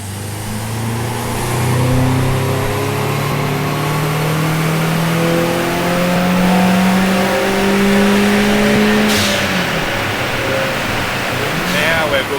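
A turbocharged car engine revs hard on a dyno during a power run on a hot day, its loud steady drone climbing in pitch through long pulls with a sharp transient near the end.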